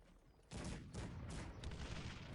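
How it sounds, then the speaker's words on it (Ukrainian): Artillery in Cossacks 3 battle gameplay, a quiet cluster of rapid overlapping shots in several bursts after a short lull, distant and dense like massed fire. "Артилерія працює."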